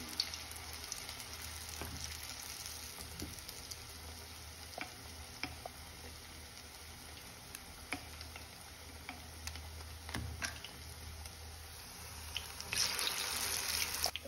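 A bread snack fries in a kadai, a soft, steady sizzle with scattered faint ticks and pops, fairly quiet and close, swelling slightly louder toward the end.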